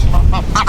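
Geese honk loudly and close by in two or three quick nasal calls over a low, noisy rumble.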